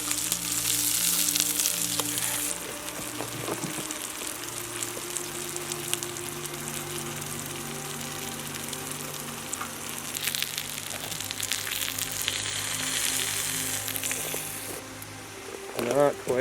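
Trout frying in a pan gives a steady, close sizzle that runs through the whole stretch, with a louder burst near the start and another near the end, while people talk nearby.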